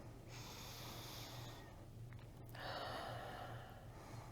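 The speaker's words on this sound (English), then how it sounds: "Every time I do, take a deep breath in, blow it back out." A patient breathes deeply in and out during a stethoscope exam at a DOT physical, with soft, close airy inhale and exhale rushes, two clear breath cycles, quiet and alone.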